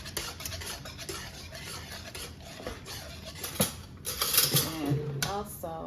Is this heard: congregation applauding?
no